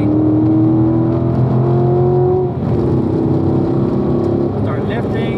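A Chevrolet Corvette's engine drones steadily at high load through a curve, then the pitch dips and climbs again as it accelerates out, loud and close from the cabin.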